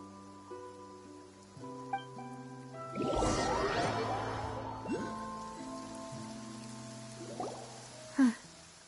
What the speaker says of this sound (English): It's been raining non-stop for a few days now.